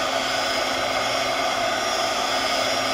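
A heat gun runs continuously with a steady, loud blowing roar, with no pauses or voices.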